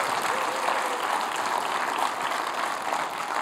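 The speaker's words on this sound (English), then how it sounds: "give Jesus the biggest round of applause" A church congregation gives a round of applause during a service, a steady, fairly distant wash of many hands clapping that holds throughout.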